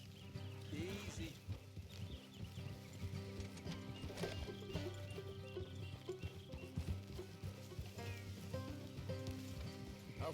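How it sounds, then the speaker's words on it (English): A horse in the video game Red Dead Redemption 2 moves with steady clopping hooves and snorts, set in a dense mix of game sound and music, with people talking over it. "Will you get a hold of that horse?"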